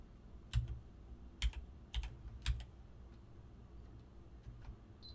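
Keystrokes on a computer keyboard while logging in as root on a FreeBSD 11 server, a few quiet clicks in an irregular burst followed by fainter scattered taps over a low steady background hum.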